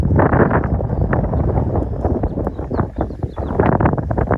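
Strong wind of about 30 miles an hour buffeting the microphone outdoors where roller pigeons fly, a loud continuous rumbling roar with gusty fluctuations throughout.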